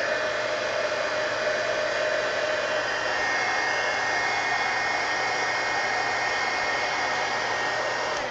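A hair dryer blows steadily on a magazine spine to dry oozing glue, a loud continuous whooshing hum that holds even throughout, close up with no talking.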